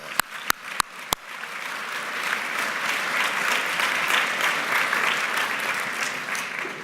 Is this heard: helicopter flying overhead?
no